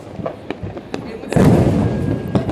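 Diwali firecrackers burst all around outdoors as a run of sharp cracks and thuds, some near and some distant, before a loud rumbling blast. A voice talks over them.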